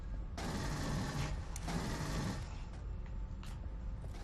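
Rapid automatic gunfire from the video game Aliens: Colonial Marines rattles in two long, loud bursts, followed by a few scattered shots and mechanical clanks.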